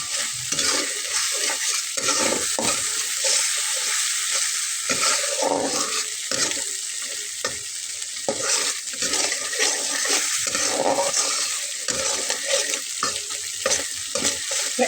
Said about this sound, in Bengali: এখন আমি এটার ভিতরে 2টা কাঁচা লঙ্কা দিয়ে নেব